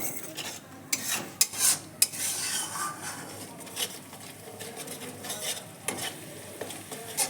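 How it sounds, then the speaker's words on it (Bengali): Spice paste with turmeric stir-fried in a pan for matar paneer, a steady close sizzle broken by sharp scrapes and clinks of a spatula stirring against the metal, with no voices. "মশলাটা এখন ভালোভাবে ভেজে নিব।"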